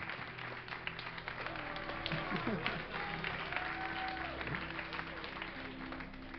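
Audience at the DreamHack 2010 StarCraft II event applauding and cheering, a sustained moderate wash of clapping and crowd noise with some voices and shouts mixed in.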